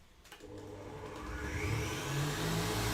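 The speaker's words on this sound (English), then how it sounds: "we're just going to whisk that on quite a high speed until they go frothy and start to make peaks" A Kenwood stand mixer whisks egg whites at high speed, its motor rising into a loud continuous whirr that builds and holds steady for the whole stretch, close up and without speech.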